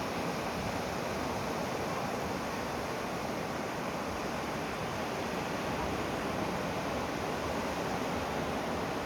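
Waves washing onto a quiet beach at sunset near Dapoli on the Konkan coast, a steady, broad surf roar that holds evenly throughout with no voices.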